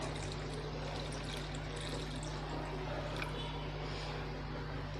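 Water pours steadily into thick curd for spiced buttermilk, a continuous close trickle running the whole time over a low steady hum.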